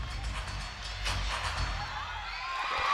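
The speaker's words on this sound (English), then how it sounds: "Her team is going crazy." A women's college gymnastics team cheers wildly at an Oklahoma at Arkansas meet after a tumbling pass, with broad crowd roar and shouts building steadily and staying loud throughout, punctuated by whoops.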